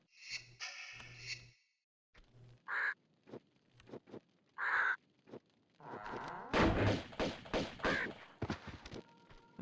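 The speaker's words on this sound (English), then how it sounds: "I think I have enough health for this bird to deal with it." Bird cawing in the Tomb Raider II video game, several harsh caws spaced apart between thuds and footsteps, then a busier stretch of overlapping hits and calls.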